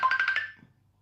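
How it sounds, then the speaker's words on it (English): A mobile phone rings with a short burst of repeated electronic tone pulses, clear and close, which then stops and leaves near silence. "who's ringing me now?"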